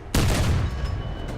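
A big tank gun in War Thunder fires one sharp, loud shot that booms and then rolls away in a long, reverberant tail.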